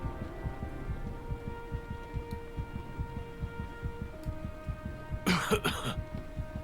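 In the video game Heavy Rain, a character coughs and clears his throat in a short cluster of raspy bursts over a rhythmic, pulsing game soundtrack, fairly faint.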